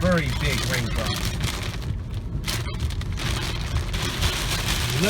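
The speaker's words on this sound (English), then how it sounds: "Look at the heavy rain that's falling here in Bakersfield." Heavy rain falls during a severe monsoon thunderstorm with strong wind in Bakersfield, California, a dense, loud, unbroken hiss and patter, with a voice heard briefly at the start.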